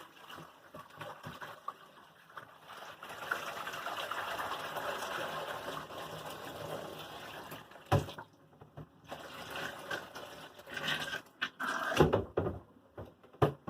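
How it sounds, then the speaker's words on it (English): Washed wool fleece in a basin as its rinse water is poured off, a quiet, steady trickling and sloshing that swells midway, with a few sharp knocks and splashes near the end. "I'm going to pour this off."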